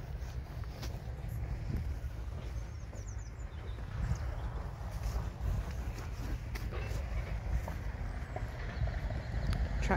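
Friesian horse running loose in an arena, soft hoofbeats in an irregular rhythm over a low wind-buffeted rumble, faint and somewhat distant throughout.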